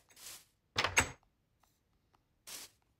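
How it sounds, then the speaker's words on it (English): A wooden door in the video game Minecraft closing, heard as a short soft swish, then a sharper double clack, and another brief swish near the end, each isolated against quiet background. "close the door"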